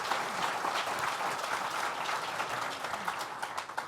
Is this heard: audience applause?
yes